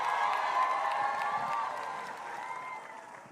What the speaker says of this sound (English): they deserve nothing less than the loudest, most passionate crowd cheering them on